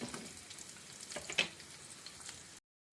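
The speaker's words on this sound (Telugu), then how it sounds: "ఆనియన్స్ వేద్దాము వేసి మంచిగా కొంచెం లైట్ బ్రౌన్ కలర్ వచ్చే వరకు ఇలాగా కలియ పెడుతూ ఉందాము" Steady sizzling of onions frying in a pan, with a few scraping stirs of a spoon, then a sudden cut to silence near the end.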